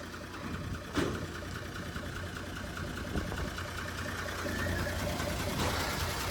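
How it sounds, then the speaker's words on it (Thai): A Hino six-cylinder diesel engine in a ten-metre truck idles steadily, a low even rumble with a faint clatter, heard from a modest distance with a couple of brief knocks. "เครื่องยนต์เป็นเครื่อง ฮิโน่ 6สูบนะครับผม"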